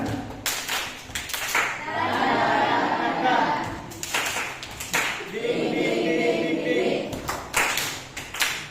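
A group of teachers performs a rhythmic spirit clap (tepuk semangat) in bursts of patterned clapping. Chanting voices fill the pauses between the claps.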